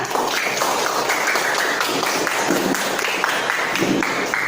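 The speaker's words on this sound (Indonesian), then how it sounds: "Kita tepuk tangan semuanya ya." Steady classroom applause fills the whole stretch, a dense patter of many hands clapping together at close range without a break.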